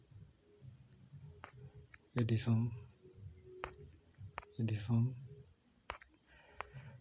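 Computer mouse clicks, sparse and faint, while scrolling through an online mining platform's revenue account page, heard as isolated sharp ticks under nearby speech.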